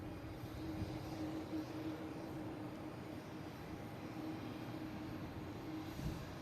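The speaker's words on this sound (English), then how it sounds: "next to arrive, we have a Delta and A321neo coming in from Salt Lake City" Delta A321neo arriving at Boston Logan from Salt Lake City, a steady, distant jet roar heard alone at low level throughout.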